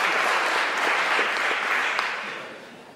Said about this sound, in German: Sie wollten klatschen.